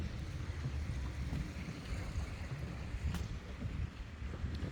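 Steady wind blusters across the microphone outdoors in Mississippi, a continuous rushing roar with no voices.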